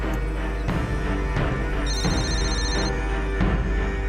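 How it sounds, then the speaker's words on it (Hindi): A phone rings repeatedly while a call is being placed, the electronic ring tone repeating in short bursts over a low hum, fairly close and moderately loud. "फोन लगा उसको।"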